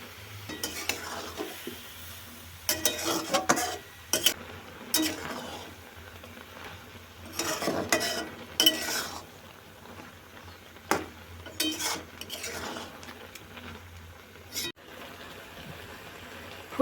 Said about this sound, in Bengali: ফুলকপি রোস্ট হয়েই এসেছে, এবার নামানো হবে।